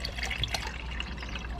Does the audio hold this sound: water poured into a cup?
yes